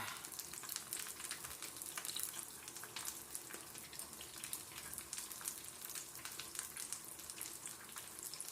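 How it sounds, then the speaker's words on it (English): Steady, dense crackling sizzle of hot water cornbread frying in hot oil, close and continuous with no voices. "And let it just fry until it's golden brown."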